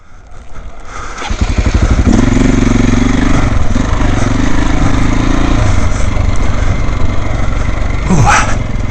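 A dirt bike on a hillclimb pulls away in first gear, its engine rising from a low idle into a loud, close, buzzing drone that holds steady and then surges briefly near the end.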